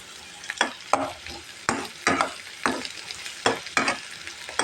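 Dried fish tossed into a pan of fried onions, with repeated stirring scrapes every half second or so over a steady close sizzle of frying.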